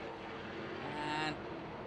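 Trans Am muscle race cars roar around Watkins Glen, a steady engine drone that swells briefly as a car passes close and then settles back to a continuous rumble.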